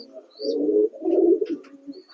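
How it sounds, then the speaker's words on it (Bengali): A male pigeon coos close by in two soft, throaty bursts, followed by a quieter trailing coo. "এটা একটা মেল পায়রা"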